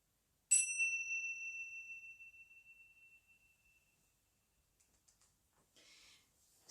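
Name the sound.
meditation bells ringing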